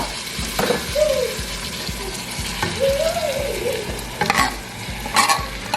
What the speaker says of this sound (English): That's kind of when you want to start adding your rice. So I'm gonna go ahead and add it.